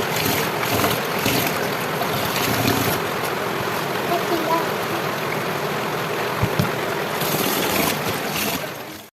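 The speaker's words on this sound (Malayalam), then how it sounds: "അങ്ങനെ വീണ്ടും മഴ പെയ്തു." Heavy rain pours steadily in a rural Kerala village, a loud, continuous broadband rush that holds evenly for the full clip before cutting off.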